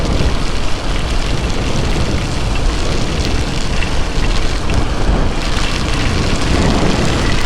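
Heavy rain pours steadily and loudly throughout, a dense, unbroken wash of hiss and patter along a road on a long motorcycle ride from Amritsar toward Rajasthan, with no talking.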